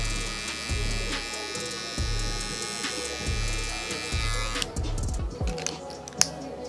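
Hair clippers buzz steadily up close with the blade lever fully closed, lightening a high taper fade, the drone rising and dipping in short passes through the hair before the motor cuts out and a few light handling clicks follow.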